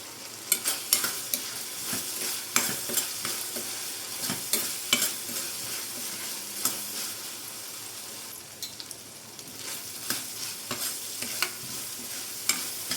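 Mustard seeds crackle and pop in hot oil with onions in a pan while being stirred, a steady close sizzle broken by frequent sharp spits and scraping stir strokes, with no voices.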